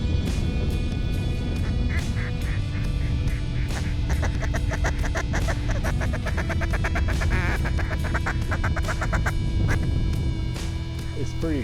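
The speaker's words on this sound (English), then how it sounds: "It's pretty beautiful watching 100 ducks circle around us with their wings locked up, feet down." A large flock of ducks circles overhead at a Kansas duck hunt, keeping up a dense, continuous chorus of quacks and honking calls at close range, with human voices mixed in.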